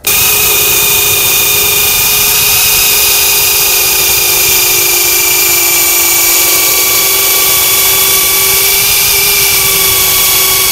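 An orbital polisher pad runs steadily, buffing out scratches on a dashboard gauge cluster, giving a loud, continuous close-up whine with a constant pitch throughout and no voices.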